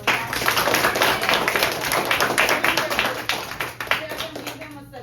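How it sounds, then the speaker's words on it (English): A classroom audience at a career day claps for a guest speaker, a patchy burst of hand claps with some close individual claps, tapering off toward the end. "Give him a round of applause"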